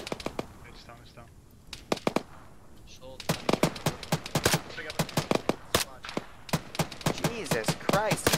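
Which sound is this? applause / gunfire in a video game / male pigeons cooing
gunfire in a video game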